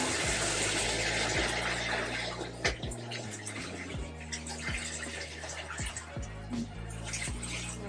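Water runs continuously from a tap while bleach tie-dyed shirts are rinsed under it, a close, steady splashing hiss with occasional sloshes and drips, loud throughout and without talk.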